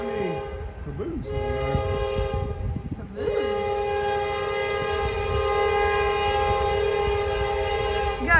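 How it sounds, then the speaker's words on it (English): A train with a caboose passes at Locust Grove, its horn sounding in long, loud sustained blasts close by over a steady rumble of rolling cars. "got a train coming at Locust Grove."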